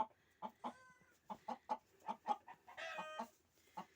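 Hens on a homestead cluck in short, evenly spaced bursts close by, one bird louder and nearer than the rest, with a brief squawking outburst before the steady clucking resumes.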